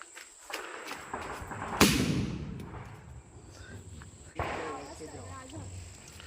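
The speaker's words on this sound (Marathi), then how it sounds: "या ठिकाणी थोडासा फटाक्यांचा जल्लोष" A single sharp firecracker bang cuts through outdoor crowd noise and chatter at a Ganesh immersion procession, followed by a softer second pop a couple of seconds later.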